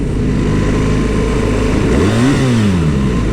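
BMW R1300GS boxer-engine motorcycle accelerating from around 3000 rpm, a steady close engine drone whose pitch climbs and then drops back as the throttle opens and eases, with no talk over it.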